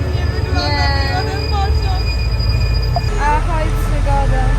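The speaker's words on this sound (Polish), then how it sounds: "Pociąg po prostu jedzie." Night train running on the rails, a steady low rumble with wheels squealing in wavering high tones, loud and close from inside the moving train, with voices talking over it.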